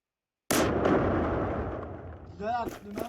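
A sudden booming explosion in a game bursts out after silence and rumbles away, with a voice speaking briefly at the end.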